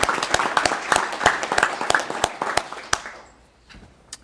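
Scattered applause at a city council meeting, a small group clapping with distinct individual claps for a few seconds before tapering off to near silence.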